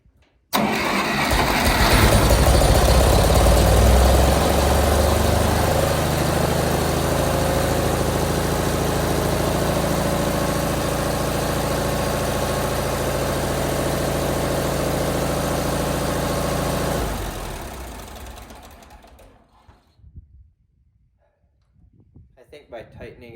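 A Massey Ferguson MF204 forklift engine idles high with a throttle opened too far, running loud and steady for about fifteen seconds before shutting down and fading to near silence.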